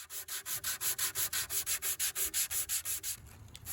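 A wooden cutting board's juice groove sanded by hand with a round foam sanding block, steady rhythmic back-and-forth rasping strokes at close range, about five strokes per second, loud and alone with no talk.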